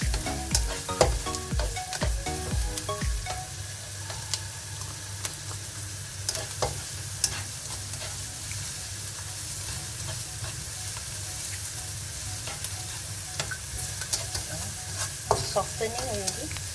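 Onions softening in a pan of oil for a mutton shepherd's pie, with steady close sizzling and occasional stirring scrapes and clinks, no voices.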